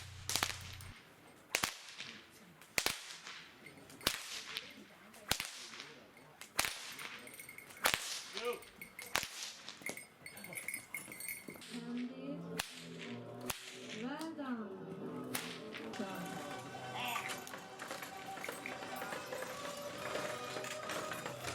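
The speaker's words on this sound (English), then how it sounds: "the horsemen demonstrating their whip-cracking skills" Horsemen at a Hungarian equestrian show crack whips in a series of sharp, loud snaps at a steady rhythm, then the cracks give way to a busier stretch of hoofbeats and crowd noise.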